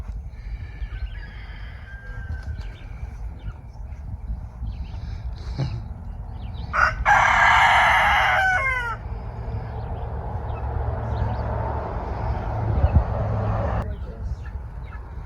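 Chickens cluck softly in the background on a homestead, then a big rooster crows loudly nearby, a long ringing call, followed by more low clucking and a distant crow.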